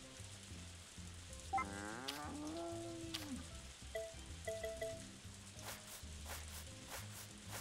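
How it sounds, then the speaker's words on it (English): Cow mooing in the video game Story of Seasons: A Wonderful Life, one long drawn-out moo near the start, followed by soft footsteps and small chiming effects on a quiet farm. "This cow's in her dry period"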